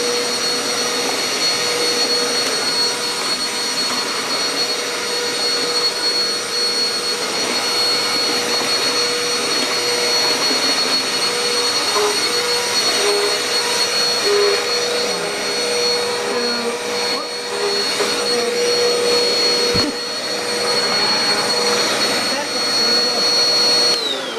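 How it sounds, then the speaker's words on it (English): A vacuum cleaner runs very close by, a loud steady whine and roar that holds throughout with slight shifts in pitch, and faint voice-like sounds underneath. "Today the vacuum is very close."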